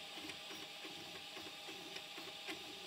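A Prusa MK4 converted to a granule extruder, its stepper motor turning an auger screw through a rigid coupling, giving a quiet steady mechanical whir with faint regular ticking pulses, heard alone.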